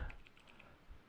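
Quick keyboard typing with several light key taps spaced across a short moment, faint and close over a low background hum.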